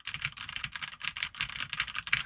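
Fingers type on a mechanical keyboard up close, a rapid, uneven clatter of crisp key clicks in short bursts with brief pauses between them, with no voices.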